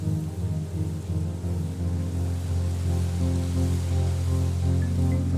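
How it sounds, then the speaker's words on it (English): Stormy weather ambience from the Muse meditation headband app, a steady, dense wash of rain with low rumbling like distant thunder throughout. "The Muse app translates brainwaves into weather sounds."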